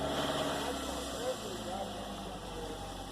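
A 2005 Toyota Camry engine idling just after starting on fresh oil, a steady low rumble with an even hum throughout, close and continuous.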